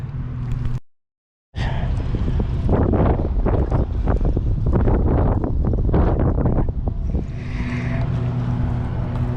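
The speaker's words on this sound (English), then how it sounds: "It's windy." Strong wind buffets the microphone beside a forest lake in Ohio during bank fishing, a loud steady roar with gusty rumble, broken by a brief dropout near the start.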